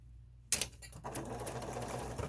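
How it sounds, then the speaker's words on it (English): A sewing machine stitches forward along a cloth mask, starting abruptly after a short silence and then running steadily up close with a busy mechanical whir and rattle. "Then I'm going to sew forwards."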